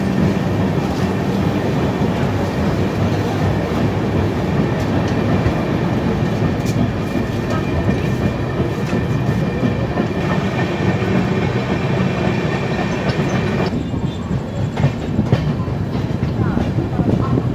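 The Sealdah–Jammu Tawi Rajdhani Express runs at speed, heard from inside with a loud, steady rumble and a rhythmic clickety-clack of wheels over rail joints throughout, while faint voices sound in the background.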